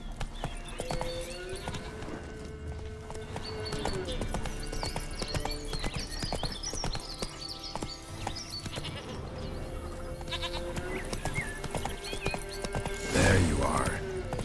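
In The Witcher 3, the horse Roach trots with a steady clip-clop of hooves amid game ambience, and animal bleats and a whinny come near the end.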